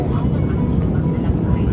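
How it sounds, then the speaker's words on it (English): Loud, steady roar of an airplane cabin in flight, filling the whole stretch as a dense broadband rumble. "it's my first airplane flight. I'm just gonna speak like this because it's too loud."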